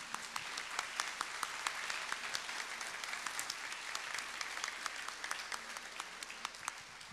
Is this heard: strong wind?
no